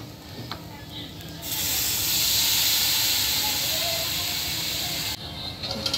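A sharp, loud hiss of steam bursts up as water is sprinkled on hot poha in a pan, holding for several seconds before cutting off, with faint kitchen clatter around it.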